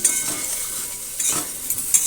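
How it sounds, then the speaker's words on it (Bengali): Potatoes and cauliflower stir-fry in a pan with turmeric and salt, the sizzle close and steady. A utensil scrapes and stirs through the pieces with light clinks of metal. "আলু আর ফুলকপি হালকা ভাজা হয়ে গেছে দিয়ে দিচ্ছি সামান্য হলুদ গুঁড়ো আর দেবো সামান্য নুন সব কিছুকে আবারও ভালো করে ভেজে নেব"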